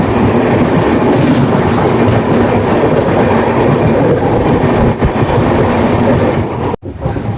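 The 11311 Hassan Superfast Express passes close by in a steady, loud rush of wheels and rolling stock, with a rhythmic clickety-clack over the rail joints and a sharp break near the end.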